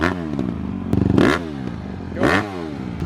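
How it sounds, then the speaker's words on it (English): A Honda CRF150R dirt bike engine with stock exhaust revs hard twice, rising and falling in sharp bursts over a steady idle, loud and close. "now here's the Crf150r sound test"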